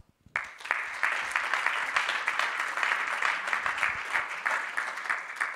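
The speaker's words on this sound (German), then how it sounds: "mit dem herzlichen Applaus" Sustained applause from a crowd at a German forestry and wildlife conference starts abruptly and keeps going steadily, dense clapping at an even loudness throughout.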